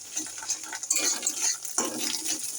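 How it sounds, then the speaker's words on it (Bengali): Fish roe sizzling and frying in a hot pan, with intermittent stirring scrapes and bursts of spattering oil. "ভালো করে ভেজে নেবো মাছ ডিমটা"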